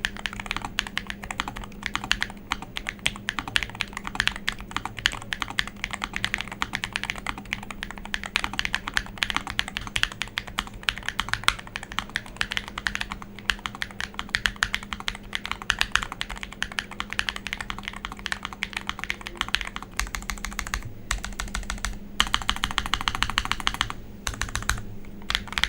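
Continuous, fast clicking of keys on a stock low-profile mechanical keyboard with plate-mounted stabilizers, close and crisp, with brief pauses near the end and no talking.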